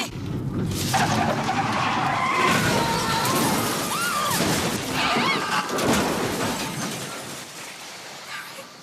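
A car skids and crashes in a Lego street scene, with long, loud squealing tires and glassy shattering and smashing that build to a chaotic, close crash before fading.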